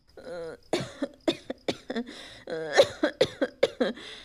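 A person coughs in a rough, voiced way, with two bursts of several hacking coughs separated by a short pause, close to the microphone.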